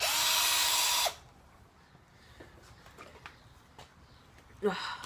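A power drill whines loudly for about a second while working a coin ring, then stops, leaving quiet room noise with a few faint clicks and a short sound near the end.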